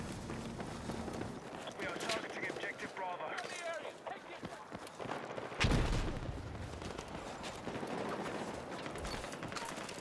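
P90 submachine gun in Battlefield 6 firing in sustained full-auto bursts, mixed with other battlefield gunfire and a sharp loud burst near the middle, under ongoing game noise.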